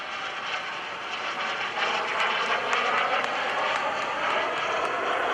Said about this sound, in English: he's going to do a knife-edge pass with this airplane